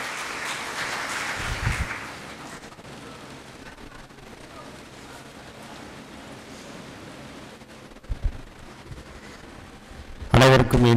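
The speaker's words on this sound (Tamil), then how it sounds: "உற்சாகமான உங்களுடைய கைத்தட்டலோடு." Sustained clapping from an audience at an NLCIL retirement party fills the room for several seconds, with a voice over a loudspeaker, and a loud closing burst at the end.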